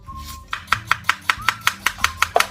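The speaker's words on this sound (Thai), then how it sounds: "เดี๋ยวเรามาหั่นหอมแล้วก็ต้นหอมผักชีกันก่อนเลยนะคะ" A knife chopping shallots on a cutting board in a home kitchen for a tuna cheese sandwich, about a dozen evenly spaced crisp thuds in quick succession, close and clear with no talk.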